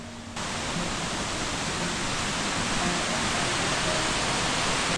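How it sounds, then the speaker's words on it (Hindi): A small mountain waterfall near the end of a descent on the Madhyamaheshwar trek roars as a steady, dense wash of falling water, close and constant throughout without any talk. "ढलान खत्म होने के आसपास है ये प्यारा सा झरना।"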